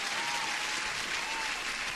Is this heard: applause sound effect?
yes